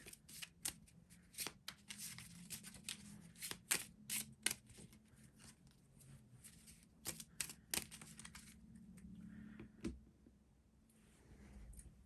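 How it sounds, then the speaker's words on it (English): A deck of cards is shuffled for a World War II board game, giving quiet bursts of crisp riffling and snapping clicks in an irregular rhythm, close by with no talk. "I'm just going to shuffle this deck."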